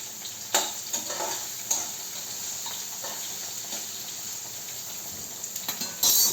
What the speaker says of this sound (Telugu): గోల్డెన్ బ్రౌన్ వచ్చేదాకా మనం వేయించుకోవాలి